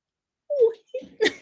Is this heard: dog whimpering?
yes